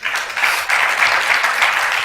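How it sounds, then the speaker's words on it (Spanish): A church congregation applauding during a sermon on holiness: a short, loud burst of many hands clapping together, steady and close. "Entonces denle un aplauso al Señor."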